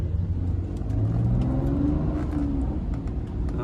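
A fully modified BMW 525d with a six-cylinder engine revs loudly and close by, its steady roar climbing and settling in pitch over a few seconds with no talking.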